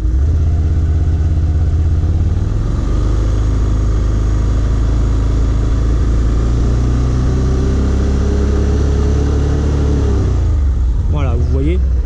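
A Can-Am XTP 650 quad engine runs steadily close by, then revs up with rising pitch before settling back, a loud continuous mechanical drone throughout.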